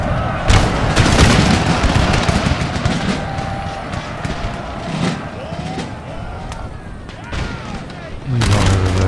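Musket volleys and artillery blasts from the battle game Empire: Total War crack and boom in rapid, overlapping bursts. Heavy booms continue throughout, under occasional talk from players.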